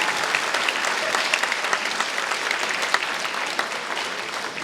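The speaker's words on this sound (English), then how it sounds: "Give her a round of applause" An audience at a charity song evening applauds a performer, a dense, lively wash of many hands clapping at a steady, close level throughout, with faint crowd murmur beneath.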